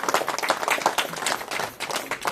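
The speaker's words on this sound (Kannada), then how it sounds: "ಚಪ್ಪಾಳೆ" A group claps in quick, uneven bursts nearby, a lively burst of applause that runs the whole moment with a brief dip partway.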